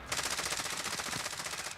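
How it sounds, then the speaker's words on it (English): Rapid automatic gunfire in Warzone 2.0, a continuous fast burst of evenly spaced shots, loud and close, lasting almost two seconds. "Taking enemy fire."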